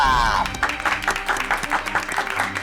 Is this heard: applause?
yes